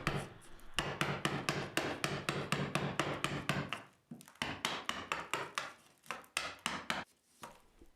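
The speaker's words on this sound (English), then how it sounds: "I'll expose this opening safely by tapping a block of wood through the drywall" A block of wood is tapped repeatedly through drywall, producing quick, regular knocking strikes in close-up, with a brief pause halfway before the hits resume.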